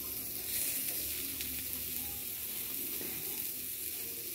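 Chopped onion frying in a pan for green-chilli eggplant bharit, a steady low hissing sizzle that holds evenly throughout with no talk.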